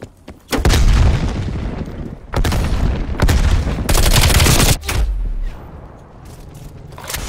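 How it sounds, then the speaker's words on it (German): A grenade goes off in Call of Duty Cold War multiplayer, with heavy booming blasts and bursts of gunfire in loud, separate waves, then a quieter rumbling tail. "Granate ist raus."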